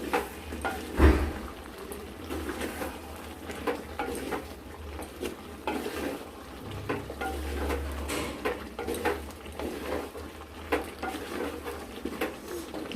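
Chicken kosha is stirred in a clay wok over a high flame. Faint scraping and tapping clicks come at an irregular pace over a quiet room background.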